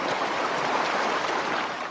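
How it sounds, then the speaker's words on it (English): A river or stream rushes steadily, a dense continuous wash of flowing water at even loudness with no pauses and no voices. "That sounds like an ocean, or a river, not an ocean."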